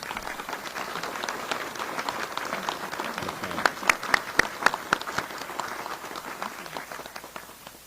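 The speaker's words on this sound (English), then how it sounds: "Let's give her a round of applause." Audience applause at a South Carolina Attorney General ceremony honoring a longtime state senator, steady clapping from a crowd with a few sharper individual claps standing out midway before it tapers off.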